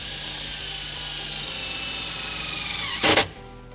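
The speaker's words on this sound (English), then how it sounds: "using the included self-tapping screw, we're going to go ahead and ground our white wire to this sheet metal right here" Power drill driving a self-tapping screw into sheet metal on a 2016 Nissan Murano, a steady whining motor hum that climbs, then a short harsh grinding burst as the screw bites before stopping.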